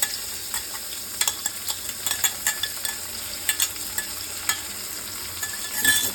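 Masoor lentils frying in oil in a pan, with a soft steady sizzle and repeated light scraping stirs of a spatula, close and fairly quiet, with no talking.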